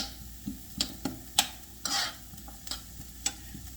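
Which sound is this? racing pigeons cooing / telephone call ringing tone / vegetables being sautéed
vegetables being sautéed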